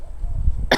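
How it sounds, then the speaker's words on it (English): A person coughs once, a short sharp burst near the end after a stretch of quiet low room noise. "Sorry, I'm coughing."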